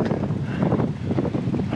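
Strong headwind buffeting the microphone while cycling uphill on a coastal road near Kıyıköy, a steady, dense roar filling the whole clip with no voices.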